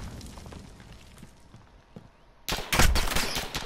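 Rapid bursts of automatic gunfire in the Call of Duty Modern Warfare 2v2 alpha erupt loudly after quieter game ambience and scattered faint shots, close and harsh.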